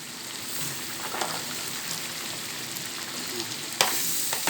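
Sliced carrots sauté in a hot pan for bopis, giving a steady, close frying sizzle with light stirring scrapes and a sharper burst near the end; no one speaks.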